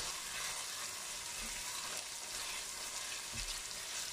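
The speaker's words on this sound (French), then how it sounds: "Faire revenir l'oignon avec les ciboules, avec poivre." Onion and spring onions frying with pepper in a pan for peanut sauce, a steady bright sizzle with a few soft stirring knocks, constant and close, with no talking.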